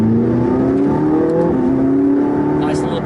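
A McLaren 675LT engine pulls loud and close through its 7-speed gearbox, the pitch dropping sharply at an upshift, with a voice talking over it.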